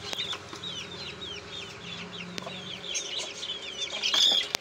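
Young chicks in an incubator chirp steadily in a rapid run of high, near cheeps, with occasional soft clucks underneath and a fan humming in the background; no one speaks.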